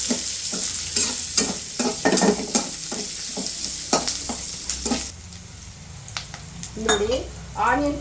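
Onions sizzling in hot oil for a home-cooked pepper and cumin sambar, stirred with a spoon in rhythmic scrapes against the pan, then the frying hiss continues alone with a few clinks near the end.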